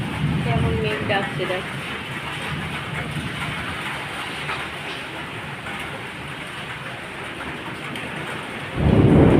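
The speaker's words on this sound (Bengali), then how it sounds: "কেমন মেঘ ডাকছে দেখ।" Steady rain pours down throughout, and a deep thunder rumble swells loudly near the end; a voice may be faintly present beneath the downpour.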